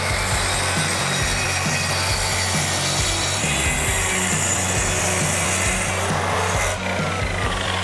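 A cheap, one-star-rated track saw bought from Amazon cuts through wood with a steady, loud, rough rasping whine and a low motor drone throughout.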